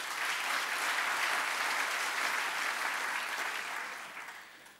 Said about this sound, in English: A special applause to the Reserve Bank